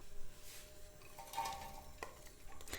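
Onions frying in oil in a pot as filling for a cheese pastry, a faint, steady sizzle with a few soft stirring scrapes and light clinks.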